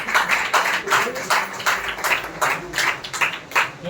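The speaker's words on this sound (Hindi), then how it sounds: "जोरदार तालियों से उनका स्वागत" Audience applause at an International Women's Day function, welcoming a guest onto the stage: steady, dense clapping from a crowd that keeps going throughout, with a faint voice mixed in.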